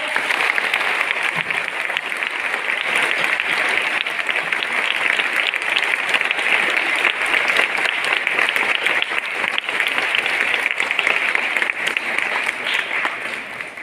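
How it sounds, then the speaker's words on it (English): Sustained applause from a large crowd at a school event, steady and loud throughout, with scattered cheering mixed into the clapping. "A big round of applause"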